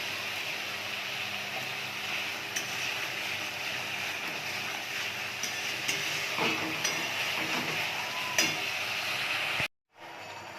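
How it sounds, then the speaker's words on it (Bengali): Prawns frying in a hot pan with salt and Kashmiri chilli powder for a kachu shak dish, a steady sizzle with occasional clinks of a utensil against the pan, briefly cut near the end. "এবার আমি চিংড়ি মাছটা দিয়ে দিচ্ছি।"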